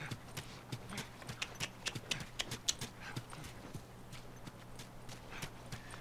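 Rapid clip-clop of horse hooves at a steady trot in the video game The Last of Us, crisp and fairly close, with faint background ambience.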